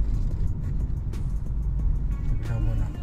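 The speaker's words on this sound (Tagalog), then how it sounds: "So yun, tabi ko muna itong sasakyan." A car pulls over to the roadside on a road trip, a faint low engine rumble and tire noise drifting beneath soft background sounds, with small clicks and thumps over a few seconds.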